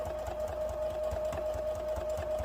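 A sewing machine stitches fabric slowly with a steady, rapid mechanical patter and a constant motor hum, close by and fairly quiet, with no talking.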